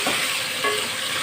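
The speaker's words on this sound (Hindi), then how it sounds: "इसमें अब हम टमाटर डालेंगे" Tomatoes stir into ginger and garlic paste in a hot pan while cooking potato biryani, giving a brief, loud, dense sizzle with a couple of soft stirring scrapes.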